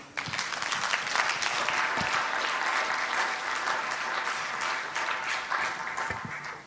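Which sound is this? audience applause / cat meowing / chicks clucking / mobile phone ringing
audience applause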